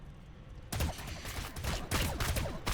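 Gunfire in Warhammer 40000 Battlesector during a Tyranid versus Necron match: quiet at first, then a sudden volley of rapid shots and impacts, with a second burst near the end, moderately loud.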